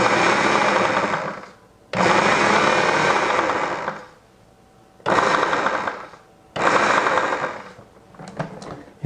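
A food processor blends garlic scape pesto with parmesan, roaring loudly in four close pulses of steady whirring separated by short pauses, with a quieter knocking at the end.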